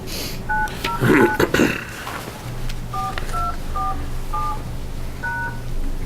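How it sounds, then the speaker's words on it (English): Telephone keypad tones enter a teleconference access code: a quick burst of beeps alongside brief muffled talk and handling noise, then a slower run of about five clear, evenly spaced tones over a low steady hum. "Please enter your access code, followed by the pound sign."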